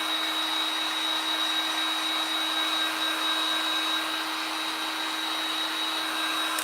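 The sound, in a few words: heat tool drying craft paste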